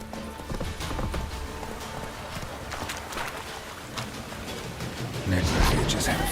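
Hoofbeats of the horse Roach galloping in The Witcher 3, a steady rapid clip-clop under wind and game ambience, with a voice talking over it and a louder burst near the end.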